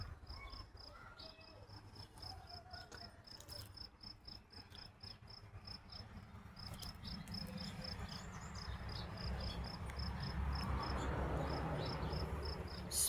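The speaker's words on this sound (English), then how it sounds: "Frog pond." Garden frog pond ambience at low volume, with a steady, rapid train of high insect chirps over a low, rising background rumble.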